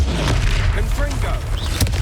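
Confringo blasting spell detonating in the Hogwarts Legacy video game, a dense booming blast with crackling debris amid a loud, continuous game battle mix under a voice.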